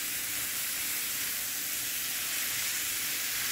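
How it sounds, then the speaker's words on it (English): Carrots frying in ghee give off a steady, even sizzle while being stirred, a continuous close hiss with no pauses or voices. "add the carrots or the gajar and keep stirring till it changes the color"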